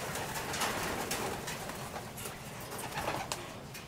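Racing pigeons coo in a loft in the Philippines, soft repeated throaty calls over a faint, steady background hum, heard at moderate distance with no talking.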